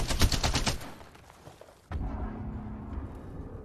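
Rapid automatic gunfire from the video game Apex Legends rattles in a dense burst of shots, fades, then gives way to a sharp impact and a lower-pitched rumbling after about two seconds.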